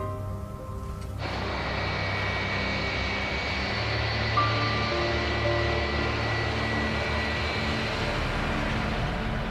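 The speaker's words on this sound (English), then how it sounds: "It's still hours before dawn when the plane lifts off." A Boeing 737-300 jet airliner takes off before dawn with a loud, sustained engine roar that builds after a sudden onset and holds steady throughout.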